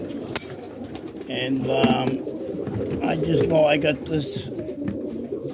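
Roller pigeons coo in low, throaty rolling calls close by, several birds overlapping, while someone talks over them.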